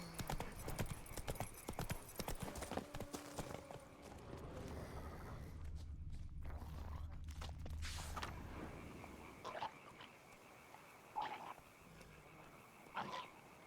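Horse hooves clip-clop in the video game Witcher 3 (Blood and Wine), a steady trotting rhythm up close that fades into quieter ambience partway, with a few later thuds and creaks.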